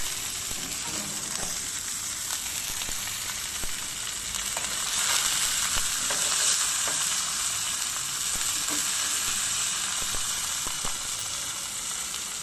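A thick ribeye steak fresh out of a sous vide bath sears in a hot pan with a loud, continuous sizzle that swells midway, close and steady, with faint handling clicks and no talk.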